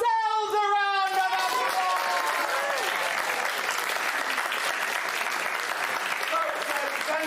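A theater audience applauds steadily at the close of a stage show, a broad, even wash of many hands clapping that sustains throughout, with a held musical tone fading early on.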